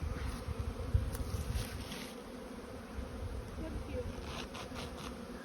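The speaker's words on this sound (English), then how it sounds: "A couple boxes of bees there." Honey bees swarm around small four-frame hive boxes, making a dense, continuous buzzing drone close by, with individual insects flying past now and then.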